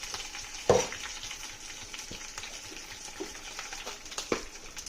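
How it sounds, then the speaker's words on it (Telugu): Mustard seeds, fenugreek and urad dal fry in hot oil with a steady, fairly quiet crackling sizzle, broken by sharp popping bursts, one especially loud near the start. "ఇవన్నీ వేసాక ఇవి కొంచెం ముందు ఫ్రై అవనిద్దాం."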